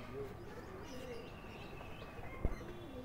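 Pigeons kept at a home loft coo softly in the background, a few low, faint calls rising over quiet ambience, with a short sharp knock near the end.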